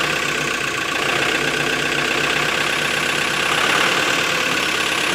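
A LOVOL 1054 tractor engine idles after starting on a frosty morning, a loud, steady diesel rumble with a fine knocking texture that holds evenly throughout, no talking.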